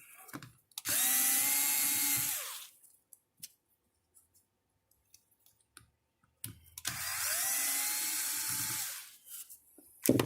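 A power tool whirs through two sustained bursts of a couple of seconds each while removing screws from a KTM 950 motorcycle, with faint clicks and handling noise in the quiet gap between them.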